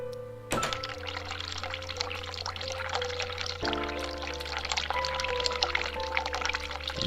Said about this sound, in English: Turn hot water on.